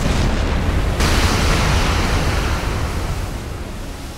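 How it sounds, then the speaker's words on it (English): A torpedo striking a merchant ship in a submarine game, heard as a loud, broad roaring blast that swells at the start and then slowly fades into a rumbling wash with no voices. "So I hit him with a second torpedo."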